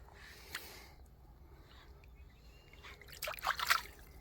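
Water is poured and trickled over a caught giant catfish on a riverbank, soft dribbling at first, then louder splashing and sloshing near the end.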